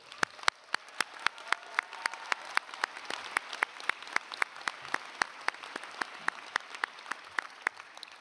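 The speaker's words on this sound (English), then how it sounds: "Class of 2024, let's give them a round of applause." A round of applause at a convocation ceremony comes across as sparse, crisp claps in a roughly regular rhythm, sharp near hand strikes over a faint hall background.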